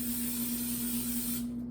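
Cooking oil spray hisses steadily from a can onto a casserole dish, one continuous close burst that stops abruptly near the end.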